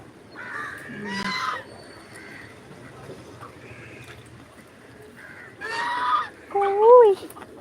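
Ducks feeding on scraps of fruit and rice with curry, giving a few honking, quacking calls that rise in two short bursts at the start and near the end, with a quieter stretch between them in a backyard setting.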